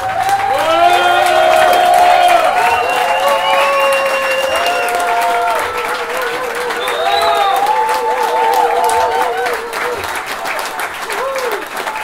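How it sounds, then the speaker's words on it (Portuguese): An audience at a band's live performance bursts into loud applause and cheering, with clapping, shouts and whistles that fade slightly midway and then swell again, voices calling out over the sustained clapping. "Então eu queria pedir uma salva de palmas especial em nome do povo de Axé."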